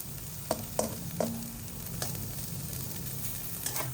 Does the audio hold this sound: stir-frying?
yes